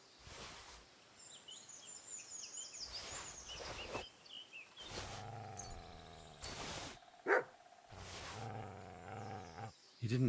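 A dog in Kingdom Come: Deliverance II barks repeatedly, giving about half a dozen sharp, loud barks spaced irregularly over soft ambient game sounds.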